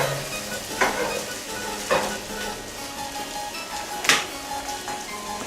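Breakfast sausage frying in a pan sizzles steadily, with a few sharp scraping or stirring clatters breaking through the constant crackle.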